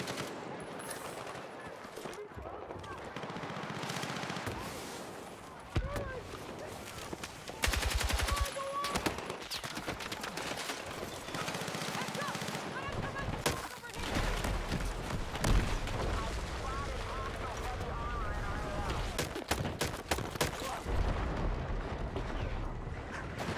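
Video game gunfire rings out in rapid bursts and single shots, loud and close, with machine-gun strings, occasional explosions and a voice talking in between.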